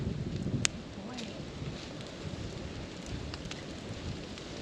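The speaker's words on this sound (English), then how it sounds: "It's raining." Steady rain falls on a campsite in a national park, a soft, even hiss with scattered faint drop ticks and a brief sharper tap near the start, fairly quiet and continuous throughout.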